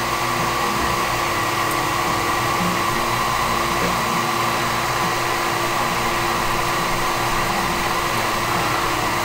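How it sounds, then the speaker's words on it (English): A well pump runs with a loud, constant, even mechanical whir and hum that continues without change throughout, with no voices. "Man, excuse the well pump."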